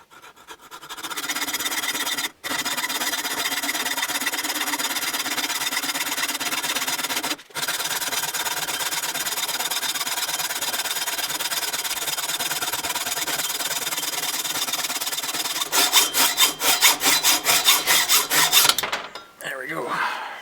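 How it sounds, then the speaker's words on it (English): A metal hand saw cuts through a rifle lower receiver in steady, continuous raspy strokes, close and loud, with two short pauses, then a faster stroke burst near the end. "I'm just going to go ahead and use one of these metal saws on it, and I'm just going to cut it to the exact length that we need it."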